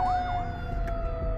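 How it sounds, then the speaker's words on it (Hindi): Fire engine siren passing on a street in Canada, a wailing up-and-down tone heard from a distance over low traffic rumble, moderately faint and continuous. "फायर ब्रिगेड की मुझे आवाज आ रही है,"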